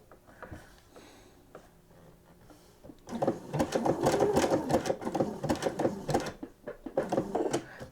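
A home sewing machine zigzag stitches along matching edges of trim on a nightgown, running quietly at first and then loud and steady with a rapid mechanical chatter close by.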